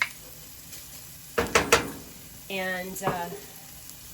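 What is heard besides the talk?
bacon and shallots sizzling in a pan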